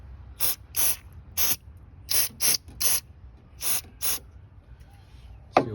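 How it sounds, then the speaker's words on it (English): Mass airflow sensor cleaner is sprayed onto the sensor of a BMW X3, about ten short sharp hissing bursts in an irregular rhythm, close and clear with no talk. "So give this a spray and give it a clean up."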